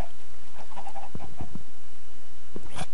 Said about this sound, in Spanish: ya hasta se metieron las gallinas a la casa